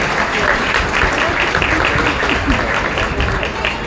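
Steady, full audience applause at a county fair cattle show, a dense wash of clapping from a crowd that holds evenly throughout without a break.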